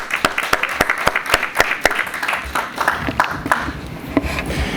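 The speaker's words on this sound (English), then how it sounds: "He deserves a round of applause." A modest audience at an evening inspirational gathering gives a round of applause, with distinct individual claps standing out sharply from the steady patter of many hands. The clapping is close and lively throughout, thinning slightly toward the end.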